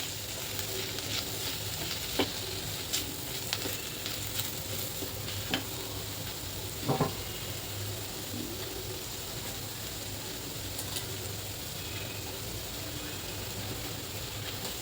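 Spices sautéing in a pan for spiced okra and potato, a constant close hiss of frying with light intermittent stirring ticks and a low background hum, no voices.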